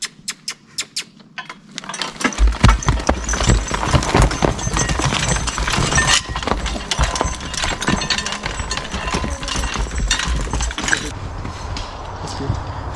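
Draft horses step along a wooden surface, their hooves clip-clopping in an uneven, close rhythm after a few sharp knocks, with light background noise and little talk.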